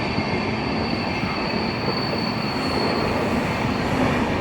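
A train runs past a railway level crossing at Koladath. Its wheels squeal and rumble in a loud, steady, close roar with a faint high metallic whine throughout, and no voices are heard.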